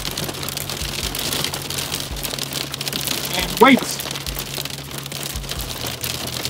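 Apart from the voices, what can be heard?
hail falling on a bus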